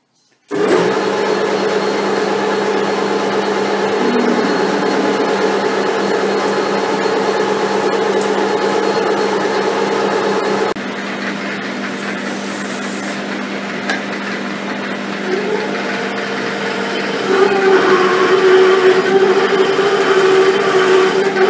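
A machine drills a hole through metal with a steady loud whirring drone, shifting pitch partway through and rising to a higher squealing tone near the end, with no talk.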